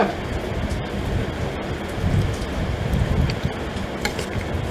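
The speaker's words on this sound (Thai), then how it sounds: "ฝนตกหลากได้เห็นฝนตกปะ" Steady rain pours down in a dense, continuous hiss with a low rumbling undertone throughout.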